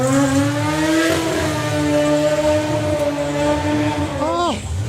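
A Mazda drag racing car's loud engine holds a steady high-pitched drone, then revs sharply upward and cuts off near the end as it accelerates away.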